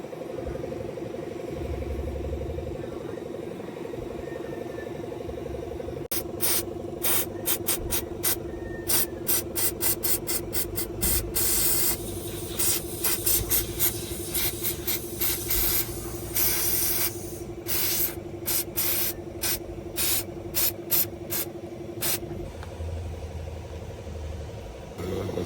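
A sensor from a Hyundai Elantra is cleaned, probably with spray and rubbing, over a steady low hum: a long run of rapid, rhythmic bursts, close and fairly loud, with no talking.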